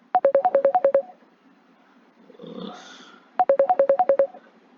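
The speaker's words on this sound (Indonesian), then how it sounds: "Sebentar ada yang telepon masuk nih." A phone rings with an incoming call: two bursts of rapid, warbling electronic beeps alternating between two pitches, separated by a pause of about two seconds with faint background noise.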